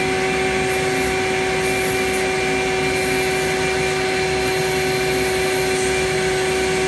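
A shop vac runs loud and steady with a constant whine and rushing air, with an exhaust leak hissing somewhere along it, unbroken for the whole stretch.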